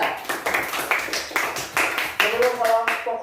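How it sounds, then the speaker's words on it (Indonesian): Clapping in a classroom for a student group, a loose, rhythmic round of hand claps from a small group of pupils, close and bright, with children's voices mixed in toward the end. "tepuk tangan buat kelompok 3"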